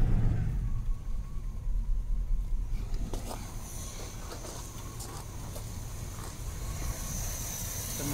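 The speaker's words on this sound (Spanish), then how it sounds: "Está el motor funcionando" Chevrolet 350 V8 engine idling unevenly, a low close rumble with a slightly wavering rhythm and a faint hiss, steady and alone without speech.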